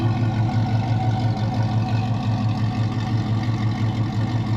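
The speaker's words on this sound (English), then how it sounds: "Got a nice sound on the exhaust." A supercharged 6.2-liter 2008 Chevrolet Tahoe idles through its exhaust with a deep, steady, pulsing rumble, close and loud, and no talking.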